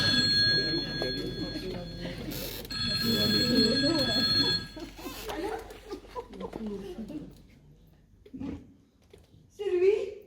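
Telephone ringing with repeated electronic rings during a French stage comedy, mixed with talk and chuckling from people nearby.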